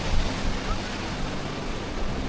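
Sea waves surge at high tide on Puri's Golden Beach in a continuous rushing wash with some wind buffeting the microphone, loud and close.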